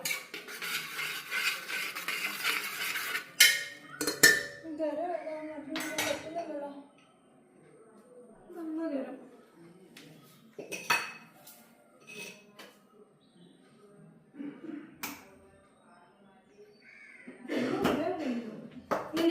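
Spoon stirring curry with garam masala in a pan, scattered scraping and clinking strokes at moderate level, with some soft talk in between.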